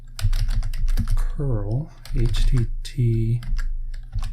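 Computer keyboard keys clatter in quick bursts as a command is typed for a Raspberry Pi software setup, the clicks running underneath a voice talking.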